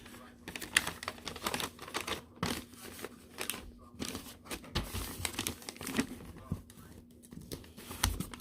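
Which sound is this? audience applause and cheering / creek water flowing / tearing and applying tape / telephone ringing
tearing and applying tape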